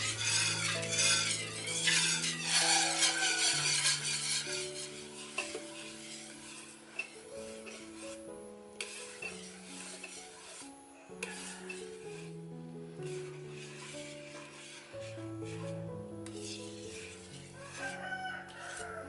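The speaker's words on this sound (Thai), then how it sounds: "กวนไปเรื่อยๆนะคะ พยายามอย่าทิ้งกระทะค่ะ" A spoon scrapes and stirs thick pandan batter rhythmically against a pan, steady and close, with soft thick sloshing under a layer of background music.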